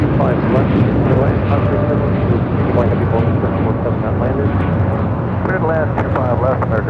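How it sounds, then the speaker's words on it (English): An Aeromexico Boeing 787-8 Dreamliner taking off for Mexico City, a loud, steady jet roar filling the whole stretch, with radio chatter and voices running over it. "647 taking off to Mexico City on a 787-8 Dreamliner"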